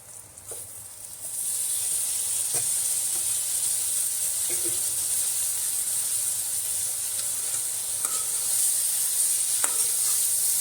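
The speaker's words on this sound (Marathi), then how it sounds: "यात आता ही भाजी घालून घेते मी." Kantoli vegetable tipped into a hot pan erupts into a loud, steady sizzle that holds throughout, with occasional light scrapes and knocks from stirring.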